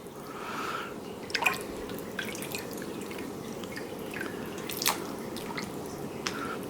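Broth for wedding soup with spinach scooped and poured with a ladle, soft liquid drips and splashes in a few brief bursts over a steady kitchen hum, close and fairly quiet, no speech.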